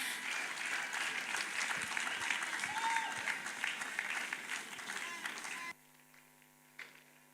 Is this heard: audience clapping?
yes